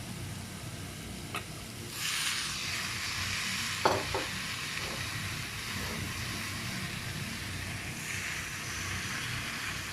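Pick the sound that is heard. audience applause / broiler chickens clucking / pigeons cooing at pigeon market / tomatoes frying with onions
tomatoes frying with onions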